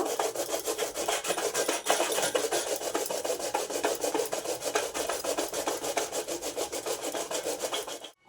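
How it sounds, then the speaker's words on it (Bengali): Taro is grated by hand on a perforated metal plate, a continuous rhythmic rasping and scraping with fast repeated strokes, close and steady for about eight seconds with no talking. "তো দেখো পুরো কচুটা আমি এইভাবে ঘষে নেব"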